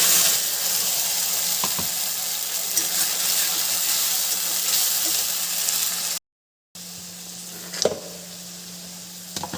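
Spice paste frying in a hot pan, a loud, dense sizzle with occasional stirring knocks, cut by a brief silent gap before the frying resumes, close and with no voices.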